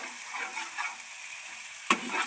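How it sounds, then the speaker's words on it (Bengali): Bottle gourd leaf paste stirred in a hot pan, a soft continuous sizzle with scraping of the spoon, one sharper knock near the end, close and fairly quiet with no talking. "নাড়তে হবে, না তো নিচে আবার লেগে যাবে।"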